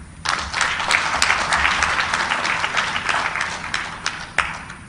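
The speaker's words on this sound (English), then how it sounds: "Please, a round of applause for our elders." Applause from an audience at a democracy stakeholders' conference in Arusha, a loud, close, sustained round of clapping with a few sharper individual claps standing out.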